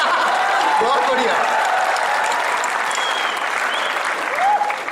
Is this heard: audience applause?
yes